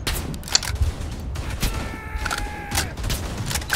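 Gunfire in the World War I video game Verdun, with a steady rumble of distant battle and scattered shots and bursts, fairly even in loudness and with no clear talk.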